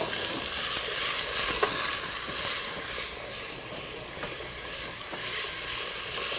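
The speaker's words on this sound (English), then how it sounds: "Now let's add our chickpeas." Chickpeas with turmeric and salt sizzle and fry in a hot pan on high flame, a steady close hiss broken by occasional scraping stirs, with no voices.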